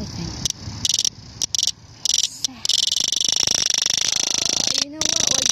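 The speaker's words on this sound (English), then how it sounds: "It's called a cicada." A 7-year cicada in a forest park buzzes loudly and shrilly, first in choppy stop-start bursts, then as a sustained close drone with brief gaps.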